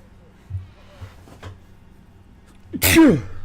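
One loud, sharp sneeze bursts out near the end after a few faint soft sounds, close and sudden against a quiet background.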